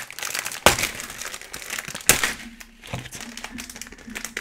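WWE trading card multipack wrappers torn open by hand: close crinkling and crackling of plastic foil, with two sharp rips standing out among smaller rustles.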